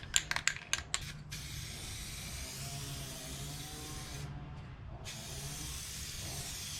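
Clear coat hisses steadily from a rattle can spray paint can after a few quick rattling shakes, a close, continuous spray with one brief pause partway through.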